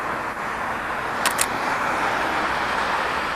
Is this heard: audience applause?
no